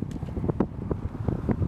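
Strong desert wind in western China gusts and buffets close to the microphone in low, rumbling bursts, a rough and uneven roar with no voices.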